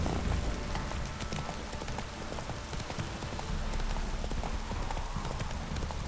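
A horse's hooves clip-clop in a steady, continuous rhythm through The Witcher 3: Wild Hunt, close and constant under a busy background of game ambience.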